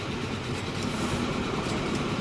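A train in the Train Fever game rolls along with a continuous loud rumble and rail noise, steady and unbroken throughout, with no voices.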